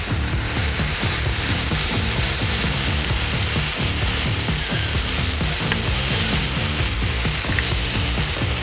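Onions and beef smash burger patties sizzle loudly on a Blackstone griddle with a dense, constant crackle, close up, with faint scraping under the hiss.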